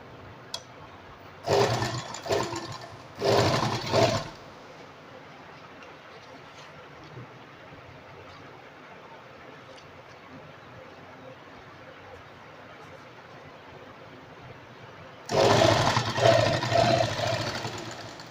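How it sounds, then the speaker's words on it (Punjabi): A sewing machine stitches saree pleats along buckram in short, loud bursts of rapid whirring. Two quick runs come early, then a long quiet stretch, then a longer run near the end. "ਇਸ ਤਰ੍ਹਾਂ ਰੱਖ ਕੇ ਬਿਲਕੁਲ ਬੁਕਰਮ ਦੇ ਨਾਲ ਨਾਲ ਸਲਾਈ ਲਾਉਣੀ ਆ"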